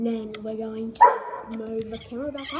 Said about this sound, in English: Sorry about my dog, he's barking a lot.